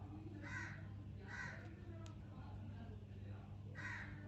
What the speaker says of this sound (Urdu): یہ کوے کی آواز مجھے بھی بہت زیادہ تنگ کر رہی ہے